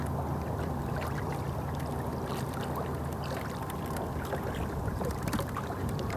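Kayak driven by a Watersnake trolling motor on a DIY mount, a steady close hum and churning water rush running unbroken throughout, with some wind noise and no talking.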